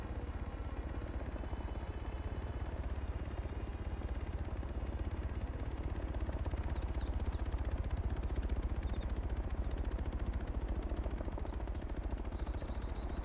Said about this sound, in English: Oh my god, that's a Chinook.